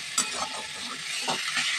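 Salt and turmeric are mixed into an olive chutney, giving soft, continuous scraping and stirring strokes over a faint hiss. The sound is close and moderately quiet, with no voices.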